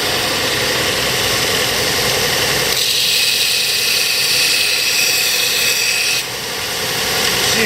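A Kalamazoo S612-3 6-inch belt and 12-inch disc sander runs with a loud steady whir while a workpiece is pressed against it, adding a harsh grinding rasp that holds for several seconds, then eases and returns.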